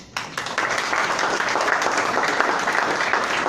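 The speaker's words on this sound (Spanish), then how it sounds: "Un aplauso, por favor." A burst of crowd applause starts abruptly after a brief pause and continues as a full, even wash of clapping from many people.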